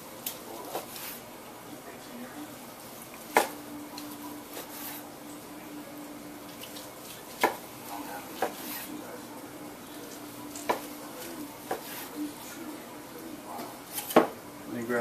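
A knife slicing through juicy smoked beef brisket gives soft, wet cutting sounds broken by sharp clicks of the blade on the board, scattered across the stretch at close range under quiet talk.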